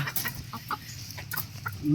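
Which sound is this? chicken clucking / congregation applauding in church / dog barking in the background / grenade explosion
chicken clucking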